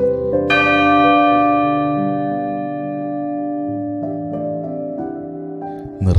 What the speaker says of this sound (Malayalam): ആദ്യ ബലിക്കുള്ള മണിമുഴങ്ങി.